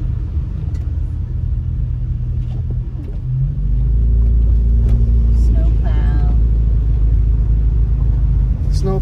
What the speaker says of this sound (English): Snow plow